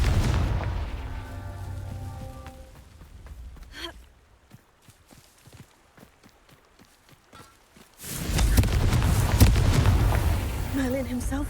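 Confringo fire-blast spell explosions in the game Hogwarts Legacy: a deep, rumbling boom fades at the start, then after a quiet stretch of light footsteps another heavy, roaring explosion bursts out and sustains loudly.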